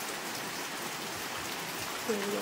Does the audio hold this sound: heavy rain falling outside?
yes